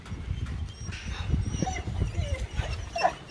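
Several dogs move around a house, their paws scuffling and thumping close by, with short yips and whimpers breaking through the shuffling noise.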